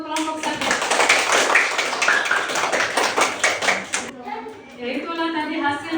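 Fifth-grade classroom children clap together for group 1, a dense run of sharp, steady hand claps for about four seconds that stops abruptly, with children's voices and a teacher speaking afterward.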